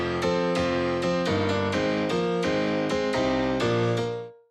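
A piano treated with compression and short reverb plays a steady chord progression, full and dense, with sustained evenly leveled chords changing every half second or so before ringing out at the end.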